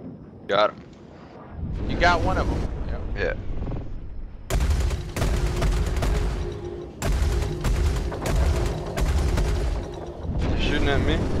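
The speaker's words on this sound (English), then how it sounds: "Oh, that shadow's shooting at me." Rapid automatic gunfire rattles in bursts during a Star Citizen firefight, loud and close, with a player talking over parts of it.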